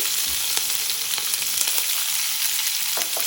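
Two green chillies sizzle in a hot oil tempering with curry leaves for vermicelli upma, giving a loud, steady hiss with small pops, close up and with no talk.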